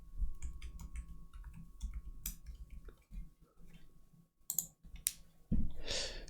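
Keys tapped on a computer keyboard while entering a password, a steady run of small close clicks with brief pauses and a few louder knocks near the end.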